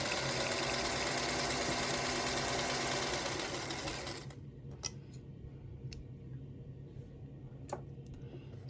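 A sewing machine stitches a 5-inch scrappy quilt block, running in a fast steady whir for about four seconds before stopping, then a few faint ticks and clicks of handling the fabric.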